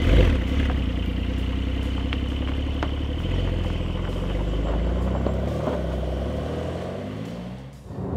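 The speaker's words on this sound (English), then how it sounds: "when you twist the key, the engine erupts into life behind your head." A Porsche 911 (992) engine mounted behind the driver starts and rumbles loudly and steadily, a deep throaty idle with a slight mechanical clatter, close by and unbroken.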